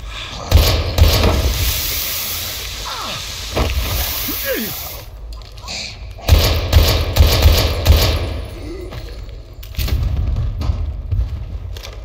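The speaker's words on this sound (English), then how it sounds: "I hate the shooting in this game. Like, it sucks to shoot a weapon in this." Gunfire in the survival horror game Daymare 1998, with bursts of rapid shots and heavy thuds spread across the clip, loud in places and broken by quieter gaps, with a voice talking over parts of it.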